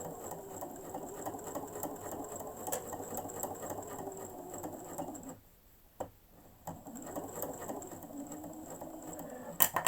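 A sewing machine runs steadily as it stitches pleats into a fabric face mask, with a brief pause partway through before the whirring motor and rapid needle ticking resume close up.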